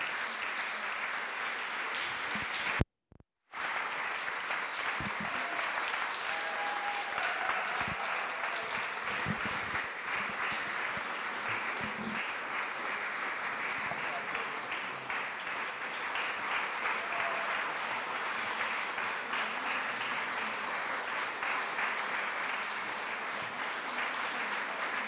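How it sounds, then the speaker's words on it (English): Audience applause for the Citizens of the World Choir in The Nave at St Ethel, a dense sustained clapping that fills the hall, broken by a brief cut near the start and continuing strongly. "Please give them a very warm round of applause."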